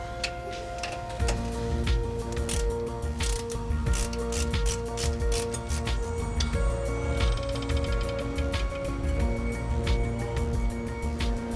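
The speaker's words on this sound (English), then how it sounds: "going to undo the two bolts here that hold the sway bar link on into place" A ratchet clicking steadily up close as it undoes the sway bar link bolts on a Landcruiser 200, a continuous loud rapid ticking with mechanical whir beneath.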